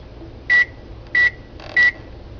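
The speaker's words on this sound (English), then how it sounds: "he brings the food from the microwave and the microwave is making this sound." A microwave oven beeps after warming food: three short, identical, evenly spaced electronic beeps, clear and close, with quiet room tone between them.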